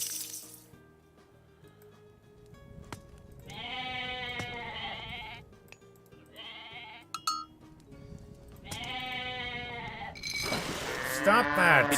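Goats bleat in Age of Mythology in two long, quavering bursts with pauses between, followed by a brief clink and a rising voice near the end.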